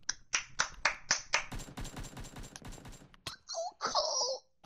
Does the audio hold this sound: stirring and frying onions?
no